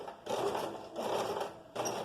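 A sewing machine stitches a skirt waistband seam, three close bursts of steady mechanical whirring separated by short pauses, fairly quiet and with no talk.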